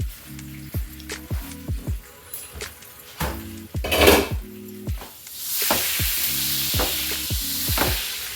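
Salisbury steaks sizzle loudly in a frying pan, broken by repeated clanks and scrapes of a utensil against the pan, with a steady hiss of frying building up toward the end.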